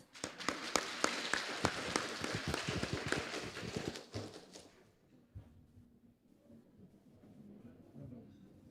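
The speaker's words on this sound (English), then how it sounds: "Please give a warm applause." Audience applause at a conference, dense clapping from many hands for about four seconds before fading into quieter room noise and murmuring.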